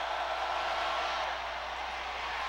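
A dense, steady roar rises from a packed football stadium crowd at the 2006 Ole Miss vs LSU game, continuous and broad like rushing noise, with no clear voices breaking through.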